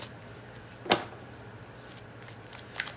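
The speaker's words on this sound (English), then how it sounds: "I have to make sure I'm shuffling my cards really well." Playing cards are shuffled nearby in a quiet room during a spiritual reading session: one short riffling burst, then a fainter flick near the end, over a low steady hum.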